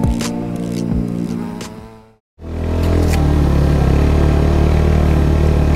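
A motorcycle rides a dusty dirt road on a trail ride to remote waterfalls. Its engine runs loud and close with a steady drone, cuts out briefly, then returns with heavy low rumble and wind buffeting.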